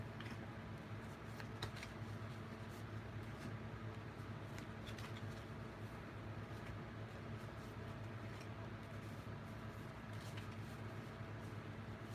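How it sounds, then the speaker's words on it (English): Trading cards from a Fusion Strike deck being mixed and shuffled by hand, a steady soft riffling and sliding that continues throughout over a low background hum, with no talking. "I'm just going to do a mix around before I shuffle."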